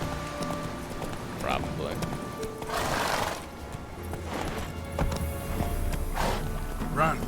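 Roach the horse gallops in a video game, with repeated clip-clopping hooves and occasional whinnies sounding over game ambience, and a person talking over it.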